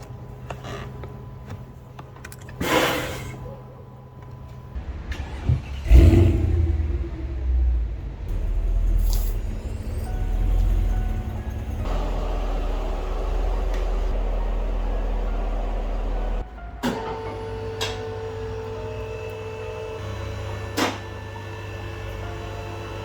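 A Mercedes AirMatic air suspension compressor runs during a pneumatic test, giving a steady mechanical hum and rumble with clicks and shifts in load, close and fairly loud, with no talk.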